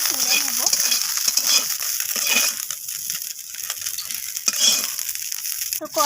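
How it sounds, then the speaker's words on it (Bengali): Small mourola fish sizzle in hot oil in a wok while a metal spatula scrapes and turns them, giving loud close frying hiss with repeated scraping strokes and no voices. "মাছগুলোকে একটু আমি খুন্তি দিয়ে ওলট পালট করে নিচ্ছি। তো মাছগুলো এখানে ভাজা হয়ে গেছে"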